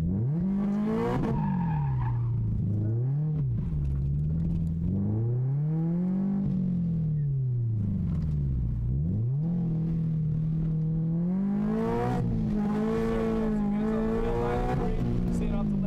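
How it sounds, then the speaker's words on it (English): A car spins a donut on a track while its tires skid and squeal, engine tone rising and falling in sweeping waves, loud and continuous, with people talking over it. "Now we're going to do our donut here"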